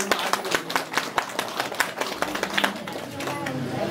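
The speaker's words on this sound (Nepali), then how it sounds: "एकचोटि जोरदार तालीले उहाँलाई सम्मान गरिदिनुहुन्छ" A gathered audience at a ward office handover claps to honour the outgoing ward chairman, a brisk round of sharp handclaps that thins out toward the end, with voices underneath.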